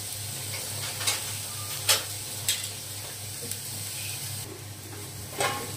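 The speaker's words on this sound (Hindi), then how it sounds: "2-3 मिनट अभी और भुनेंगे ढक के।" Potatoes fry under a lid in a pan for aloo bhujia, giving a soft, continuous sizzle with a few light ticks and clinks scattered across the stretch.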